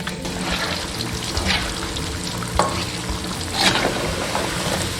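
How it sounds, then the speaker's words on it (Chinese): Starch-coated taro pieces deep-fry slowly in hot oil over medium-low heat, a dense, continuous bubbling sizzle with occasional louder crackles, close and without speech. "中小火慢炸。"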